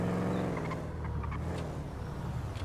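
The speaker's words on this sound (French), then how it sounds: "À gauche, voiture de flic." A police car in a video game rolls past as a steady engine rumble and road hum, close and continuous throughout, with no siren evident and no talking.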